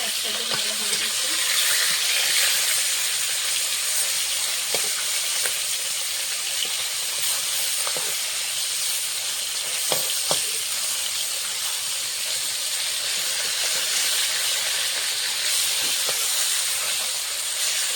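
Small pona fish frying in hot oil in a pan, a loud, steady close sizzle and hiss that runs the whole time with occasional soft pops and no voices.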